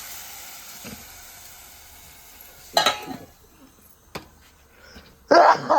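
Masala spices frying in a hot pan in a home kitchen, a soft steady sizzle punctuated by a few louder bursts of stirring and clatter, close by with no talk.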